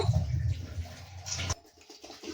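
Rice is washed by hand in water before going into a pressure cooker: wet swishing and sloshing in a vessel for about a second and a half, then a quieter drip and trickle.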